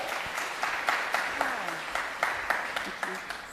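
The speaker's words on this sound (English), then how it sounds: "Give her a round of applause." Audience applause at a youth summit event as a guest is invited on stage: steady moderate clapping with sharper individual claps, with a voice faintly present beneath.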